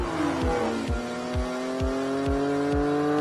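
Lamborghini Countach engine pulling hard through the gears, a loud, close, rising roar broken by a regular series of sharp gear-change dips, with no talk over it.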